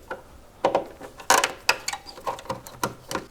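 A hand tool loosens the airbox clamp on a Toyota 4Runner throttle body, giving a series of close, sharp ratcheting clicks and small metallic creaks at an irregular rhythm.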